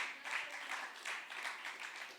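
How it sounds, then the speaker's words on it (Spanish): A congregation claps during a church discipleship class, a fairly faint but steady patter of applause with a few swells. "Dale un aplauso"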